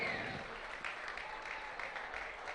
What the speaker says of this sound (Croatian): Molim jedan veliki aplauz za brojne volontere